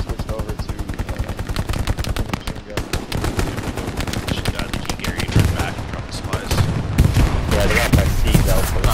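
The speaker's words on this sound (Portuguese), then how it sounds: "eu tô perdidaço porque eu não sei de onde vem os tiros" Relentless gunfire in the World War II shooter Hell Let Loose: rapid machine-gun bursts and rifle shots crackle continuously, loud and overlapping, with some heavier reports growing denser toward the end.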